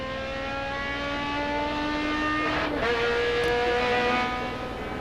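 Onboard a World Challenge touring car racing at Mosport in 2003, the engine and exhaust hold a loud, steady, high-pitched drone with a brief dip around a gear change.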